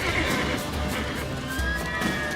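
In The Witcher 3, a horse whinnies loudly and close, with hooves thudding beneath, filling a short burst of game sound without talk.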